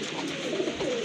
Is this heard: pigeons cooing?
yes